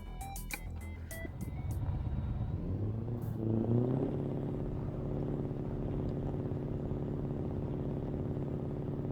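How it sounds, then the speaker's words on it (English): A V8 truck engine in Euro Truck Simulator 2 drones steadily under load on a mountain climb, its tone rising as it accelerates in high power mode, a loud continuous rumble with no talking. "I love the noise of this truck. It's such a nice V8 sound."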